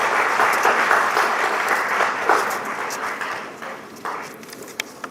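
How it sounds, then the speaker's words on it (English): A crowd applauding loudly, thick clapping that gradually thins and tapers off toward the end. "Let's give them a loud round of applause"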